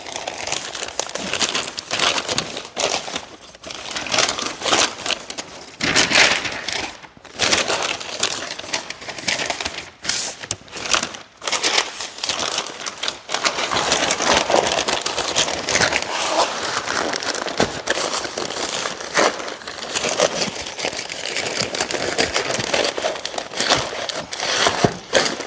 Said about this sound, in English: I'm just using peach butcher paper and I wanna wrap them real tight.